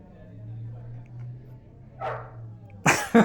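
A voice imitates a dog barking with a few short, loud yaps near the end, following low murmuring background sound.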